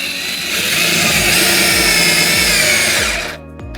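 Harbor Freight DrillMaster cordless drill driving a 2.5 inch decking screw into pressure treated lumber, a loud, close, steady high whine that slows and stops after about three seconds.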